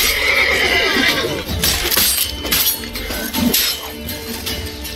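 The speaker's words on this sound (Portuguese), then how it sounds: "Não quero acertar o cavalo." A horse whinnies loudly in The Witcher 3: Wild Hunt amid crashing, breaking noises and clattering, with a busy mix of game effects throughout.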